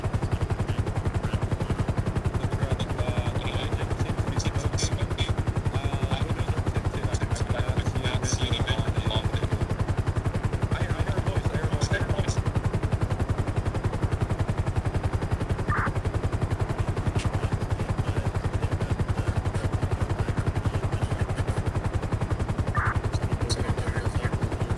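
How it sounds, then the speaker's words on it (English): A medical helicopter hovers during a rappel rescue in the FiveM video game, its rotor a steady, dense drone filling the whole stretch, with a few faint sharp clicks and bursts scattered over it. "They had the guy rappel down from the medical helicopter"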